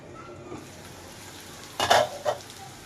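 A pot of dried fish and jackfruit seed curry cooking on low heat, mostly quiet with a faint simmer, then two short, close bursts of stirring and scraping near the end.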